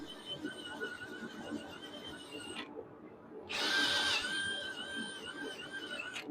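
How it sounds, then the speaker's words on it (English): A drill fitted with a wire brush attachment scrubs forge scale off a copper Damascus billet, a steady high whine with harsh scraping that stops briefly, then restarts louder and more abrasive. "I like to use a wire brush attachment on my drill."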